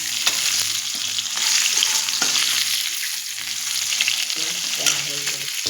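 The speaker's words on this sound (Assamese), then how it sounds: "এতিয়া এইটো কেৰাহীতে মই ভাজিম ভেন্দিখিনি।" Okra sizzles and fries in oil in a kadai (wok), a constant close hiss with occasional stirring scrapes, and a voice speaks briefly near the end.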